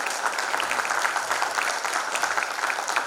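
Dense, sustained applause from a large conference audience at a digital transformation event in Guwahati, steady and loud throughout without a break.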